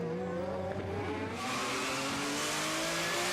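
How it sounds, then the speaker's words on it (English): Ferrari-powered racing car driving up a drying track toward the start-finish line, its engine note holding steady harmonics and then swelling into a louder, brighter roar as it accelerates, close and continuous. "On the drag up to the start-finish line, Ferrari power ensured Chris was safe in 4th."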